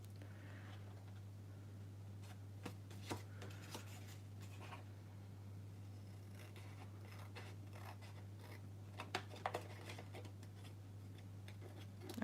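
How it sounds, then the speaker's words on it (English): Scissors cut through paper for a Halloween treat box craft, quiet scattered snips and rustles at close range over a steady low electrical hum, with no talking. "maybe using some longer scissors would make it a bit easier"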